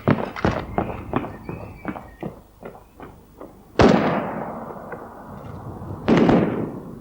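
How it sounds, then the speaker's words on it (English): Rapid sharp cracks of automatic rifle gunfire ring out in a quick burst in a town high street in Hungerford, followed by two louder, booming shots that echo and trail off. "Most people in the high street mistake the bursts of gunfire for fireworks, but Carl Harries knows better."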